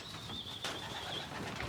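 A racing pigeon being handled after vaccination gives a brief flutter of wing flaps up close, with a thin high whistle-like tone and faint rustling in a quiet loft.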